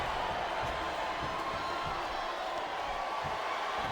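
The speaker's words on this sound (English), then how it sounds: "Listen to the crowd, JR." A virtual wrestling arena crowd in WWE SmackDown vs Raw 2008 roars as a continuous, dense, moderately loud murmur of cheering with no breaks.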